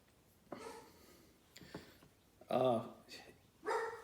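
A dog barks a few times in the background, muffled and somewhat distant, the barks spaced out irregularly.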